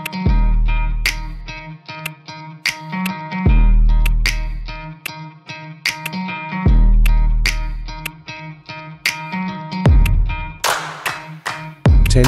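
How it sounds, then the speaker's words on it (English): Single sharp hand claps repeat at steady intervals over a thumping workout music track during a home abs exercise, each clap bright and close. "Give yourself a clap for extra motivation"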